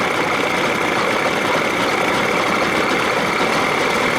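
A Johnson 40 hp outboard motor idling while it warms up, a loud, steady, close running drone with no voices.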